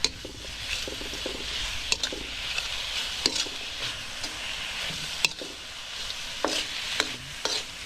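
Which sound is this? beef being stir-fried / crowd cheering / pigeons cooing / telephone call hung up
beef being stir-fried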